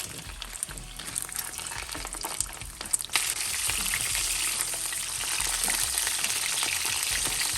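Italian sausage frying in a pan on medium heat, a steady crackling sizzle that thickens and grows louder partway through, with a few clanks early on.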